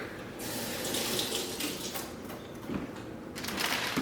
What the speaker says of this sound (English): I'm going to rinse my hand off real quick